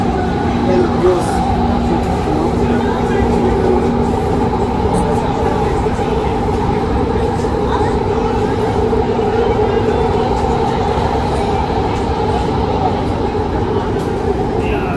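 A metro train at a station in Qatar gives off a steady, loud rumble and electric hum at close range, with indistinct voices in the background and a constant mechanical drone.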